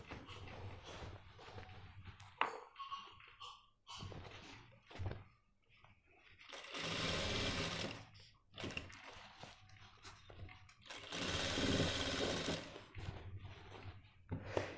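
A sewing machine stitches a men's trouser waistband with buckram inside, running in two short, moderately loud bursts separated by quieter handling and scattered knocks.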